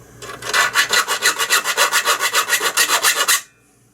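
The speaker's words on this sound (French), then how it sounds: "je viens de terminer l'agrandissement d'un trou à l'aide de lime" A metal hand file rasps back and forth against a PC case, enlarging a hole for a power supply; about twenty loud, evenly paced strokes sound up close, then stop abruptly.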